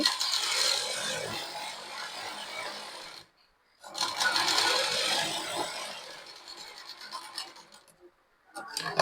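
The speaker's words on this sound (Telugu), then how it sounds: "సో ఇట్లా స్టిచ్ చేసుకుంటూ అయితే రావాలండి." Sewing machine stitching blouse fabric with invisible piping on the back part, a steady whirring run that stops briefly, resumes, then pauses again near the end.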